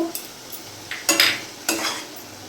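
Spice paste and chopped tomato stirred in a pan for a rohu fish curry with potatoes, giving a few short scraping and clattering strokes over a faint sizzle, close and moderately loud with pauses between.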